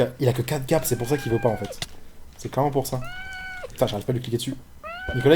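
A cat meows several times in drawn-out, rising calls while people talk excitedly over a game broadcast, the meows clear and close between the voices.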